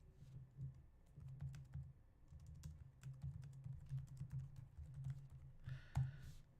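Fingers tap steadily on a computer keyboard, a quiet run of soft clicks at an even typing rhythm, close and alone with no talking.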